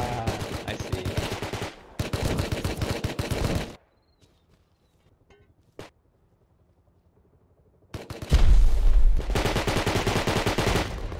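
Rapid automatic gunfire from a video game shooter with cheaters, loud dense bursts in two long volleys separated by a near-silent gap with a single sharp shot, the final burst heavier and booming.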